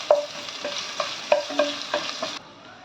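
Grated ginger sizzles in hot tempering oil with cumin as a spoon stirs it, giving about seven soft rhythmic scrapes over a steady close frying hiss, with no talking.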